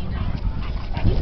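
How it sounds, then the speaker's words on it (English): A white pit bull whimpers and yips briefly, close and fairly loud, over a noisy background. "Which one's your dog? The pit bull."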